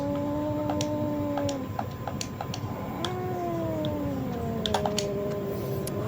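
A cat in the horror game DreadOut 2 lets out long drawn meows, two overlapping at first and then a slower pair, over a faint ticking and hiss of game ambience.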